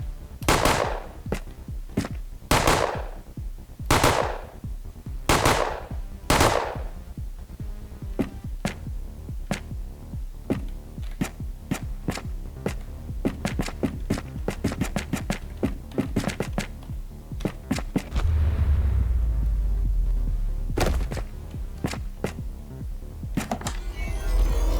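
Assault rifle fire in the video game Rogue: Operator Trinity, with a handful of loud, sharp shots early on, then a run of quicker, fainter bursts over a low hum. Later a deep rumble rises.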